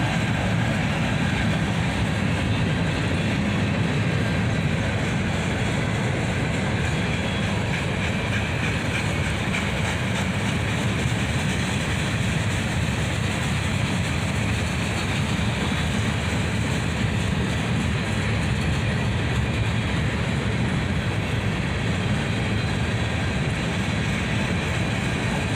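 A CSX freight train made up largely of covered hoppers rolls past at close range, a steady, dense rumble of wheels and cars that holds unbroken and loud throughout.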